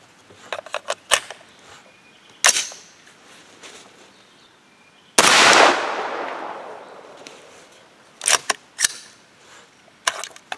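A 300 Blackout rifle with a 16-inch barrel fires a 208gr Hornady A-MAX handload over 9.5 grains of Winchester 296. One loud, close shot rings out and decays, set among several sharp mechanical clicks and snaps.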